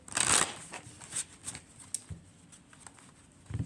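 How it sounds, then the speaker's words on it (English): Oracle cards being cut and handled, a burst of papery riffling at the start followed by scattered light taps, flicks and slides of the deck, close and fairly quiet, with no voice. "Happiness as I cut the deck. I'm going to pull some oracle cards."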